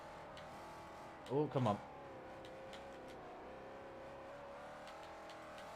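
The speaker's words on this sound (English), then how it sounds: "the gear, it sounds bloody good, the G8 engine" A Pontiac Fiero with a G8 engine swap drones at steady speed in a racing video game, a continuous engine hum with harmonics running throughout, while a man briefly exclaims over it.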